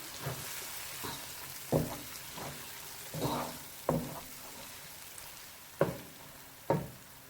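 Aloo palak with tomato fries softly in a pan, a faint steady sizzle broken by a series of sharp spoon-on-pan knocks and scrapes as the mixture is stirred and roasted.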